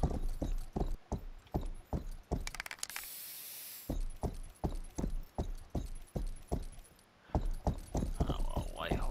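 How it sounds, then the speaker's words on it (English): Riding a horse in the video game Rustler, hooves clop in an even, steady gait, sharp and close, pausing briefly midway under a burst of noise before resuming, with faint jingling sounds near the end. "Riding the horse is kind of weird."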